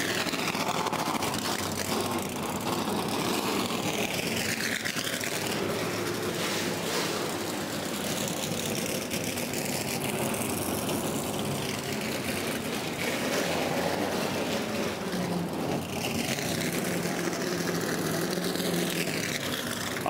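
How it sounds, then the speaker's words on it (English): NASCAR Sprint Cup Series race cars roll out of the garage at Dover International Speedway, their engines making a steady loud rumble all the way through, with the pitch rising and falling as the cars pass by nearby. "Turn up your speakers, everybody, as the cars and stars of the Sprint Cup Series roll out of the garage."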